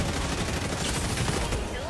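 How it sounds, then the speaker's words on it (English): Rapid gunfire in the co-op shooter Helldivers 2, a dense unbroken burst of shots from enemies firing out of trees, loud and constant over a brief moment. "Why are they shooting from the trees"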